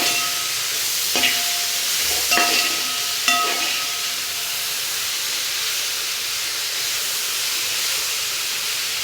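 Two chopped tomatoes go into a frying chicken curry, raising a loud, continuous hiss of steam and sizzling, with a few sharp splashes and clatters near the start before the sizzle settles.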